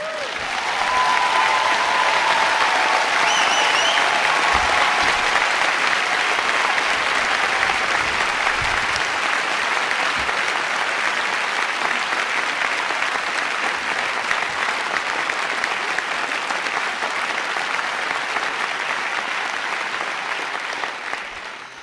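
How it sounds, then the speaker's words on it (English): Sustained applause from a large crowd at the 2012 Berlin Honor Awards ceremony, loud and steady throughout, with dense clapping that slowly tapers near the end. "I want him to stand up and take applause tonight"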